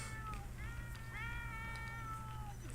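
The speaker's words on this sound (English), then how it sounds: "I don't know if you can hear him meowing" A cat named Pockets meowing in The Sims 4: a few drawn-out, tonal meows, one after another, fairly quiet over a steady low hum, with no talking.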